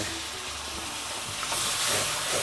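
Hissing sizzle of water poured into a hot pan of coconut milk and curry paste for a spicy wild boar stir-fry; steady frying hiss swells louder halfway through and stays close, with no talking.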